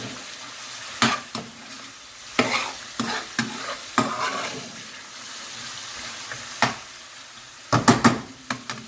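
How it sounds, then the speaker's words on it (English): A spoon stirs and scrapes a sizzling BIR-style chicken Madras curry sauce around a hot pan, with sharp scraping strokes at irregular intervals over a constant frying hiss, close up and with no voices. "Stir and scrape all that back in."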